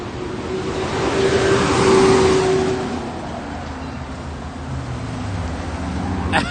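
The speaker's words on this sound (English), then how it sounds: "Hang on, the truck is going by." A truck rolls past on a street along a Los Angeles car dealership row, its engine rumble and tire roar swelling to a loud peak around the middle, then fading into steady background traffic as it moves away.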